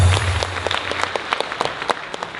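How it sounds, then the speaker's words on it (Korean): A crowd at a rally claps for a pastor, a short burst of dense applause with a few sharper individual claps standing out near the end. "박수 한번 보내주십시오"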